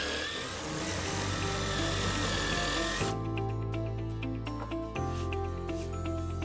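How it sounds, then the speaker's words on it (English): A power drill whirs loudly in short bursts, spinning up and down as it bores a series of small shelf pin holes in a cabinet side, with no talking. "switch to the other side to drill the matching holes"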